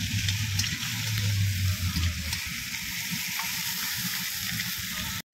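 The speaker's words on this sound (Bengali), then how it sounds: "তো আমাদের ডাল রান্না চলছে।" Lentils already boiled are being cooked in a pan, giving a steady, close sizzling and frying hiss with soft stirring scrapes that runs throughout and then cuts off abruptly at the end.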